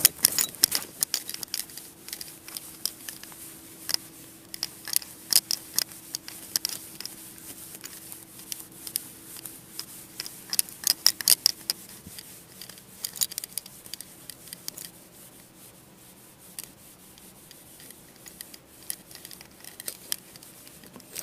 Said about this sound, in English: So let me just erase this